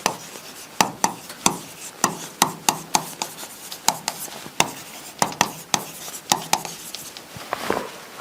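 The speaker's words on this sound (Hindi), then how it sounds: "मैं लिख देता हूं" Handwriting with a pen or marker: a steady run of short, sharp scratching strokes and taps, close and fairly loud, repeating at an uneven rhythm, with no talking.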